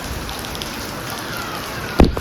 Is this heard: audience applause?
no